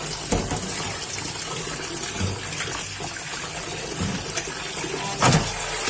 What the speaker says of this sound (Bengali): এখন পরিষ্কার করে ধুইয়া নিব, পরিষ্কার করে ধুইয়া নিতেছি